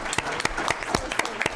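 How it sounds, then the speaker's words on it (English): A city council meeting audience gives a short burst of applause for Jesse, a longtime council figure, with scattered individual claps standing out above the room. "Big round of applause for Jesse."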